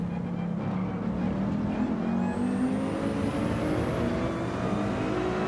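A Mercedes race car in Gran Turismo 7 accelerates out of a corner, its engine note climbing steadily in pitch as it pulls hard, loud and continuous with no talk.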